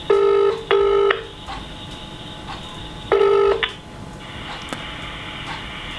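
Phone tones sound while a call is placed: a few loud beeping tone bursts near the start and middle, separated by quieter gaps, with no talking.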